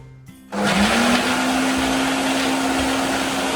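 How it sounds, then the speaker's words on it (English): A kitchen blender switches on and runs steadily, mixing hazelnut chocolate-chip cookie dough with coconut milk, a loud continuous whirring drone with a sustained motor tone that holds alone without pause. "What I do is I'll blend it, and if the dough is too dry, I'll put more. Let's blend."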